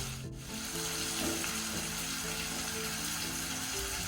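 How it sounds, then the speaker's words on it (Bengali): Onion frying until brown for a catfish curry with potato and tomato gives a continuous, dense sizzle and crackle, close and steady, with no talking. "পেঁয়াজটা আমরা একটু বাদামি করে ভেজে নেব।"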